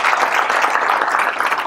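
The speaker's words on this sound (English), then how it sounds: "please give them a round of applause for that as well." Audience applause at a breakfast event, a dense, steady wash of many hands clapping at close range that fills the whole stretch without pause or talk.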